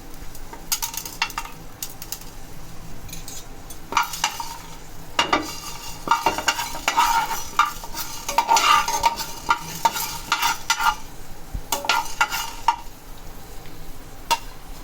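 Chana dal and urad dal dry-roasting in a hot pan with no oil, a spoon scraping and stirring the dry lentils in frequent close clattering strokes, loud and without talk.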